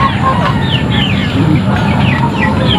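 Chickens clucking and chirping repeatedly in a dense, close flock amid steady rain or flood noise during a storm, with brief talk in the background.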